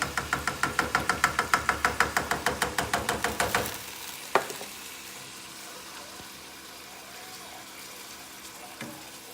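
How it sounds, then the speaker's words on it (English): A spoon stirs coconut milk for curry shrimp in a pot, making a quick run of rhythmic knocks for about four seconds. Quieter clinks and a low kitchen hum follow. "I'm mixing mine because sometimes it could be a little clunky, your coconut milk"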